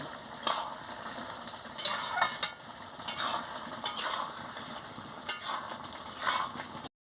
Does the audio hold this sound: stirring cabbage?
yes